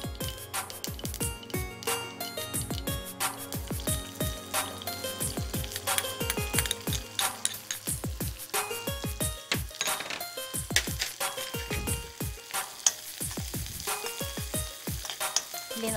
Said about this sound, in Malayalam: ഉള്ളി എടുത്ത് കടുക് പൊട്ടിയതിന് ശേഷം ഈ ഉള്ളി ഇതിലേക്ക് ആഡ് ചെയ്യുക.